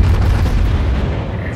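Warship broadside cannon fire in World of Warships, in a 1915-era naval battle: a loud, deep rumbling boom that rolls on heavily, dense low thunder fading slightly toward the end.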